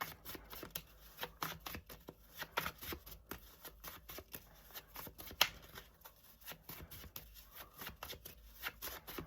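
Tarot cards being shuffled up close, a quiet run of quick papery riffles and flicks repeating steadily throughout, with one sharper slap near the middle.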